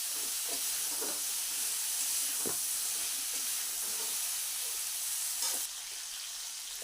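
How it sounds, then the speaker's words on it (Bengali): Ginger paste sizzles and hisses steadily in a little oil in a pan for a Horiyali cauliflower dish, with a few soft scrapes of stirring scattered through and no voices. "আদাটা দিয়ে এইভাবে একটু নেড়ে চেড়ে নিতে হবে"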